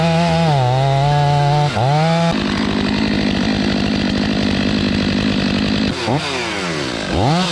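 A Stihl 500i chainsaw revs up and down loudly, close by, with a sustained high-throttle cutting stretch in the middle and falling idle blips at each end.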